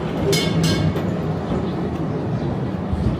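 A tram rumbles steadily along a café street close by, a continuous low roar with a couple of brief high squeals early on.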